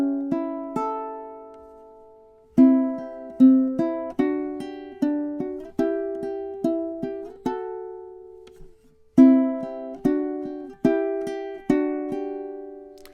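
A ukulele fingerpicks bars of a soft lullaby, single plucked notes and small chords decaying in an even, gentle pulse, with a brief pause midway; close, clean and without talking.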